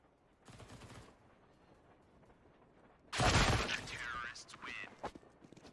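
Rapid SMG bursts from MP9s in a Counter-Strike: Global Offensive match, a quiet first burst followed by a loud dense volley later, with a caster's voice over the action.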